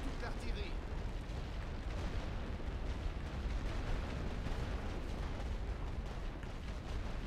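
A bombardment of a forest in a World War I strategy game produces a dense, continuous rumble of overlapping explosions that holds at steady loudness throughout, with no single blast standing out.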